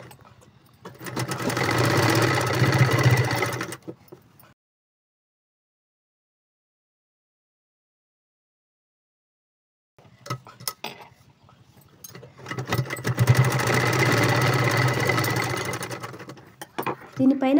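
A sewing machine runs in two bursts of steady, fairly loud stitching on a boat neck blouse, separated by a long silent pause, with a faint clatter before the second run.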